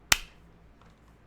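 A single crisp clap drum sample from beat-making software, one sharp snappy hit that decays quickly into silence.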